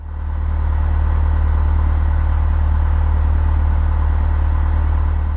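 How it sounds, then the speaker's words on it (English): A Cessna propeller aircraft engine runs continuously in a loud, steady drone that fades in over the first half second and holds a constant low hum with a buzzing overtone, alone with no voices, from a flight simulator. "This is a recording of a Cessna's propeller engine."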